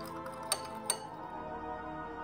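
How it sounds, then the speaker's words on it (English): A utensil stirs salt into methanol in a glass, making two bright, sharp clinks close together over a quiet background, with no one speaking. "add some salt to your methanol and stir it until as much sodium chloride is dissolved as you can"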